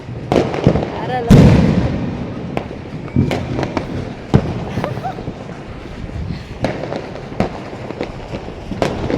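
New Year's midnight fireworks going off all around, with repeated sharp bangs and crackles, some near and loud, others farther off, over rumbling wind noise.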